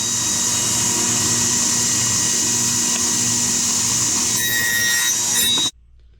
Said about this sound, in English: Now I'll be cutting some slats.